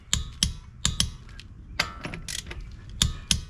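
SUZUME torque wrench from a three-piece set clicking as it reaches its 100 foot-pound setting, giving a series of sharp, loud, close ratcheting clicks in irregular bursts over a faint background.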